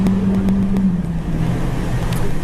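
Engine of a Ferrari F40 accelerating away, a steady loud low drone that holds through the clip with a slight shift in pitch partway.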